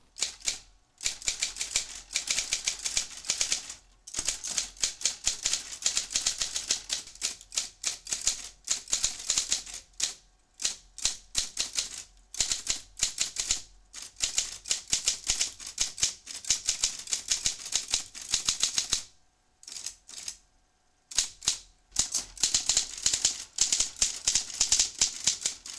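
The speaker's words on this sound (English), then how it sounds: "So here's a type test of the Olympia CE-12." An Olympia CE-12 electric typewriter types in quick bursts of sharp, close clacks, with brief pauses between runs of keystrokes.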